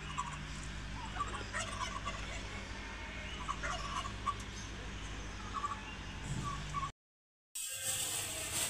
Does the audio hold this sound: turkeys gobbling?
yes